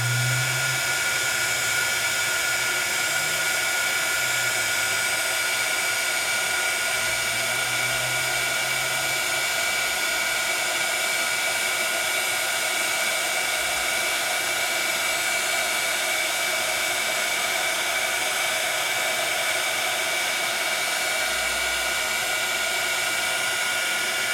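A heat tool for embossing powder blows a steady, loud whirring hum that runs unbroken for the whole stretch while melting powder on heat-resistant tape, with no talking over it.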